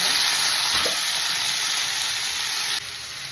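Steady, loud frying sizzle from broad beans in hot tempering in a pan, a constant crackling hiss with a slight drop in level near the end.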